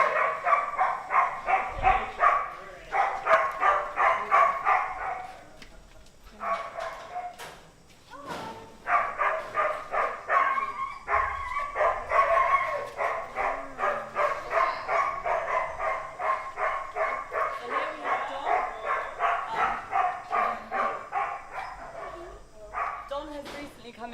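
Dogs at the Lanta Animal Welfare shelter bark in long, rapid volleys that are loud and nearly continuous, with brief pauses between runs. Some yips and whimpers are mixed in, and people talk underneath.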